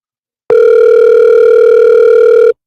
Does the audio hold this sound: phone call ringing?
yes